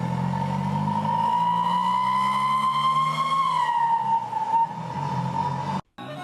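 A sharp, high-pitched whistle from the exhaust of a Kenyan matatu bus as it accelerates, holding a steady loud tone that rises slightly and then settles over a low engine drone, and cuts out briefly near the end.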